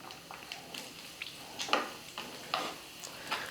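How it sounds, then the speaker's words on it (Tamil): Cashews and grated dried coconut crackle softly as they fry in ghee, with light scattered sizzles and a few stirring scrapes, fairly quiet and with no talking. "முந்திரியும் தேங்காய் வந்து நல்லா வறுபடட்டும்."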